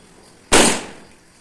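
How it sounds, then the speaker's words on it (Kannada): A single sharp Diwali firecracker bang goes off outdoors, loud and sudden, its crackling tail fading away over about a second. "ಚಿನ್ನು ಇನ್ನೂ ಪಟಾಕಿ ಹೊಡಿತಾನೇ ಇದ್ದಾನೆ ಆಚೆ"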